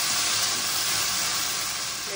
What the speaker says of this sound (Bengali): একদিকে ভেন্ডি ভাজা হচ্ছে